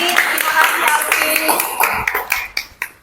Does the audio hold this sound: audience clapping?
yes